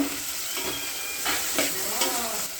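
Large onion and tomato sautéing in hot oil with fenugreek and urad dal in a pan, a continuous hissing sizzle with a few stirring scrapes, close and even throughout, with no talking.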